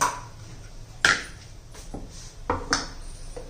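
A steel mixer grinder jar is handled in a kitchen, giving a few sharp clinks and knocks, one louder clank near the start and two more later, spaced apart amid quiet room noise.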